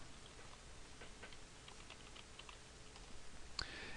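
Faint, sparse keystrokes on a computer keyboard, a few soft clicks spread over a few seconds with one sharper tap near the end, recorded at low level with no talking.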